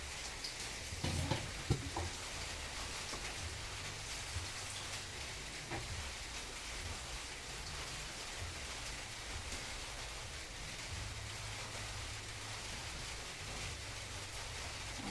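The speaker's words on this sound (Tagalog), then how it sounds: "Tapos may ulan." Steady rain pattering on a surface, a continuous dense hiss with a few louder knocks near the start.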